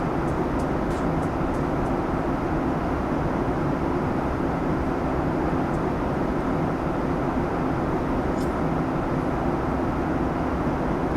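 Cabin ambience aboard a Boeing 737 MAX 8 in the iFly flight simulator: a steady, broadband engine and air roar that stays constant throughout, with a few faint clicks and ticks on top and no voices.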